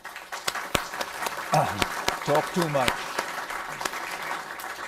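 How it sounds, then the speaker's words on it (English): An audience applauds at the close of a public conversation on India's role in the world, steady dense clapping throughout, fairly near and loud, with a voice speaking briefly over it. "See that already you're being applauded."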